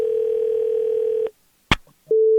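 A telephone line during a prank call to a business plays a steady electronic dial tone, then cuts out. A sharp click follows, and a fainter steady tone comes back, heard alone with no voices.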